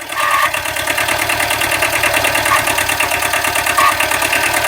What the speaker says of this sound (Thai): เครื่องสตาร์ติดง่ายนะครับ